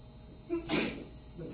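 A single sharp sneeze bursts out close by, preceded by a short intake of breath, in an otherwise quiet room.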